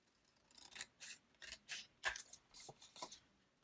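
Scissors snipping along the edge of a paper border on a craft page, a run of about a dozen short crisp cuts in irregular rhythm, close and fairly quiet with no talk.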